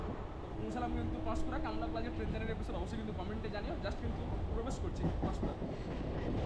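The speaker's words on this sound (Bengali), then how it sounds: "এবার আমাদের সিগন্যাল অবভিয়াসলি হয়ে যাবে এবং আমাদের ট্রেনও ছেড়ে দিয়েছে।" A Mecheda to Panskura local train rolls along the rails, with a steady loud rumble and repeated clickety-clack wheel beats throughout, and faint voices in the carriage underneath.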